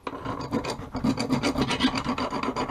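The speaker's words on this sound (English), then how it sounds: "I chamfer down the little crack." Hand file rasping to chamfer down a small crack, a quick series of close, rhythmic scraping strokes with no talk.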